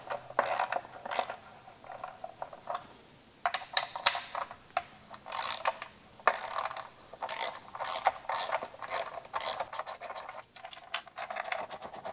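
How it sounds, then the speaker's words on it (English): An 11mm socket on a ratchet loosens bolts on an old Mercury 200hp V6 outboard during oil injection tank removal, giving repeated bursts of fast metallic clicking with short pauses, close up and clear, with no talking. "This is an 11mm socket"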